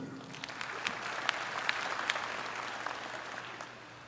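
Distant, fairly faint applause from a large audience at a Dodge City Community College commencement ceremony, steady dense clapping with a low hum beneath, no talk.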